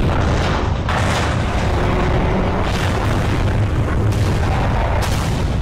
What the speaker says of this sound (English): That sounds like a fine boom.